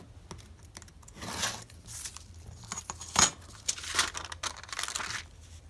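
Paper for a handmade journal is trimmed at close range: quiet scattered snips, rustles and crinkles of sheets being handled, irregular and soft with no speech.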